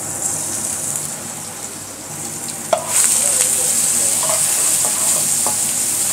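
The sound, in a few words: garlic and shallots stir-frying in a wok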